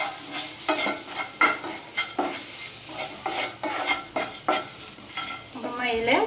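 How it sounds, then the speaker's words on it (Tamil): A spoon stirs dry ginger powder, turmeric, asafoetida and salt in a pan, giving steady scraping strokes at a regular rhythm over a continuous faint sizzle, close and clear. "போட்டு நல்லா ஒரு தடவை மிக்ஸ் பண்ணி விடுங்க."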